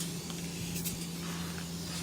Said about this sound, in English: Okay, spray it on, see what happens here.